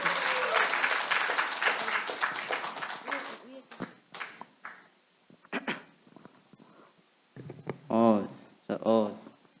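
A church congregation at a Sunday worship service claps to welcome a middle-school student, a dense burst of applause for about three and a half seconds that fades into scattered claps and nearby voices talking.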